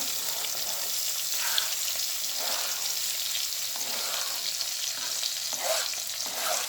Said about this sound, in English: Let this fry up nicely.